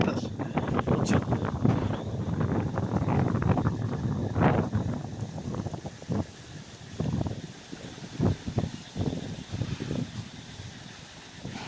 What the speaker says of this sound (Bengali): প্রচন্ড ঠান্ডা বাতাস